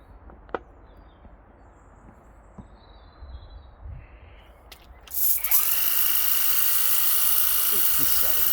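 A Worx Hydroshot pressure washer fitted with a turbo nozzle bursts into a loud, continuous hiss of spraying water after a few seconds of quiet ambience with faint clicks, then holds steady to the end.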